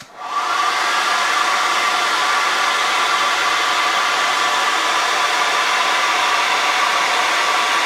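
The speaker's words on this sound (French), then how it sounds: "Je mets en route le sèche-cheveux, ça va faire du bruit." A hair dryer switches on and runs steadily, a loud, constant whooshing hiss with an electric whine that holds without pause.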